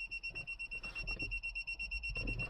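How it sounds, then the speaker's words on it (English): Glider cockpit alarm at New Castle Gliderport beeping in a steady, rapid repeating pattern of two high tones, loud and continuous, over low wind and airframe rumble. "Alarm's going crazy."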